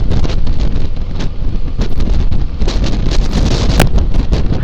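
Strong wind blows on a mountain road between Jomsom and Pokhara, roaring and buffeting steadily across the microphone with loud gusts throughout.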